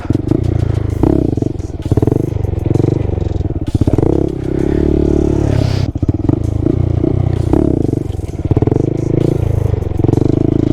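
Honda Grom motorcycle engine running hard through a stunt wheelie, a loud, continuous close-up drone with clattering and scraping bursts and brief dips as the throttle changes.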